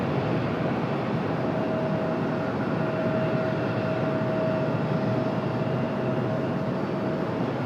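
Steady broadband roar of a United airliner climbing away from Raleigh-Durham airport, constant and fairly loud with a faint thin whine running through it, no talking.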